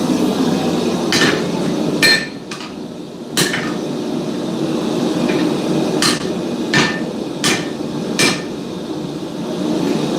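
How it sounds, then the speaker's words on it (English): Hammer blows ring out on hot steel while a chef's knife is forged, loud metallic strikes spaced irregularly over a steady roaring forge or fan noise, with no talking. "A little bit of whack forging."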